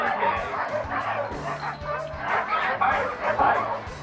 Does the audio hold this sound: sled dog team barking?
yes